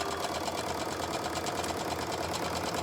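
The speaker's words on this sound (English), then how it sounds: "Take it back to the sewing machine, so I'll just take you back there, and we're going to sew down this final row." A sewing machine stitches down the final row of a quilt block, running steadily with a continuous mechanical whir and fast, even needle rhythm, moderately close and without speech.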